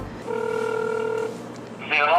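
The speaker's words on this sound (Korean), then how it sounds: "이영표 형님께 전화 해서 이 형님의 생각은 어떠신지 물어보도록 하겠습니다." A telephone dial tone hums steadily for about a second before dialing begins, ending in a brief higher electronic tone, close and clear over a faint background.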